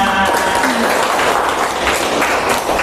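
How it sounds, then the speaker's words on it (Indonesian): A class of children claps hands together in a classroom, a dense, steady burst of many small palms, loud and close, filling the room for a few seconds. "Oke, tepuk tangan semuanya"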